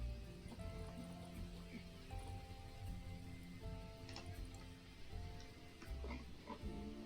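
Rain patters steadily in a Planet Zoo park, a soft constant wash of drops with scattered ticks. It sits faint beneath a low, sustained tonal game-music bed.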